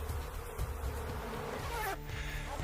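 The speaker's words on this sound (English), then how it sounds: "You generally don't mess around with killer bees, I was told." Killer bees in Arizona make a close, steady buzzing drone with a faint, busy hum that carries on throughout.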